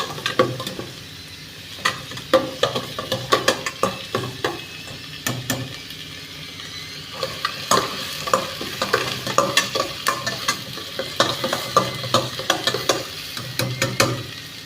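Black nightshade greens sauté in hot oil with a steady sizzle while a utensil scrapes and taps the pan in repeated rhythmic stirs, close-up throughout.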